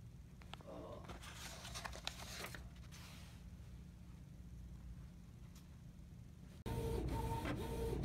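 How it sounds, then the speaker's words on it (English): A Canon inkjet printer prints a test page with a refilled, nearly empty ink cartridge: soft mechanical whirring and clicking of the print head carriage, rising to a louder feed rumble near the end. "We did a test print on this almost empty cartridge"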